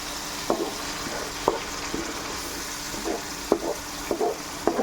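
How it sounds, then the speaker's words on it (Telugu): A paste is poured into hot tempering oil for tomato rice with garlic. A soft, continuous sizzle runs throughout, broken by several sharp, close stirring clacks at irregular intervals. "ఇది అందులో తాలింపులో పోసేసుకోవాలి."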